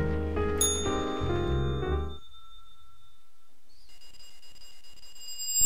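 A single bell rung in a video game, its bright tone ringing out and decaying slowly over a few seconds amid quiet game ambience, with a musical cue fading just before it.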